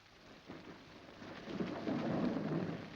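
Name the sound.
rain falling with thunder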